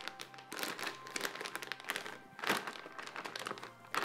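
Protective plastic wrapping crinkles and rustles as a Terramaster F2-220 NAS is unboxed, irregular close crackling bursts with a few soft thunks and no talking.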